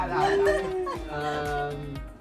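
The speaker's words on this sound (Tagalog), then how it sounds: "Kasi naman, may aso." A dog barks and howls in a few yelping bursts, close and fairly loud, sounding among people chattering during a studio game show.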